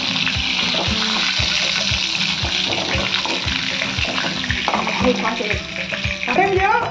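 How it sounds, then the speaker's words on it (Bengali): Chicken pieces frying in oil for chilli chicken, a loud continuous sizzle and crackle with regular knocking stirring strokes and some running-water sounds near the end, no voices. "চিকেনগুলোকে আমি এভাবে সবগুলো ভেজে নিলাম।"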